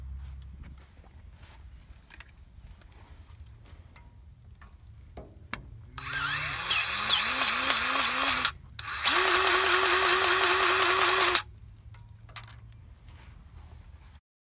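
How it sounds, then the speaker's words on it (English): A DEWALT 20V Max cordless grease gun runs in two loud bursts of about two and a half seconds each, a whining motor with a rapid pulsing pump rhythm, separated by a brief pause with quiet background before and after. "Well, we've done a little bit of greasing with it."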